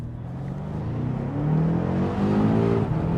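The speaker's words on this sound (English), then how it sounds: "So guys, let's take this M8 for a drive." A BMW M8 Competition accelerating hard on the road, its engine drone rising in pitch over several seconds, heard from inside the car with a steady rushing background and no talking.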